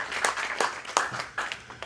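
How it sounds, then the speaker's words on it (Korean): Applause from a ceremony audience welcoming a speaker at an installation event, with crisp clapping bursts rising and falling in several waves over a couple of seconds, moderately loud with no talk. "다시 한번 박수로 환영해 주시죠"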